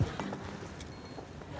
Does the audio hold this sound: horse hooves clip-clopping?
yes